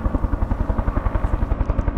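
A helicopter flying from a Fukushima ski area over snowy Ozegahara gives a loud, close, fast rhythmic rotor thumping that pulses steadily with no break.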